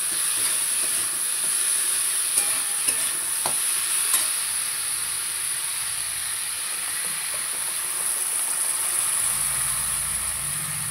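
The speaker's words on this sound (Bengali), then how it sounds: "এবার জল দিয়ে দেবো" Water hits a hot pan of potato and pumpkin curry with a steady, sizzling hiss while a spoon stirs and scrapes the pan, giving scattered clicks and knocks over several seconds, close and without any voices.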